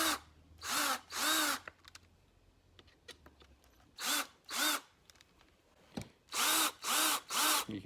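A power drill drives screws into a wood plug stuck inside a hole saw, in about eight short whirring bursts separated by quiet pauses and small clicks.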